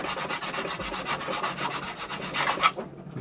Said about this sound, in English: I'm literally just sanding the seam line